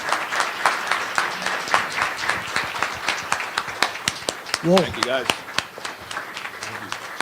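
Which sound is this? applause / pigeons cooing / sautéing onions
applause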